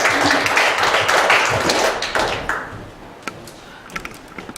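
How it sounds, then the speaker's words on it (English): An audience claps at the start of a talk on biblical principles of finance, a full burst of applause that thins after a couple of seconds into scattered individual claps and taps. "Big hand clap."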